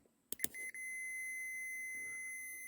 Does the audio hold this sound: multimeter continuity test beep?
yes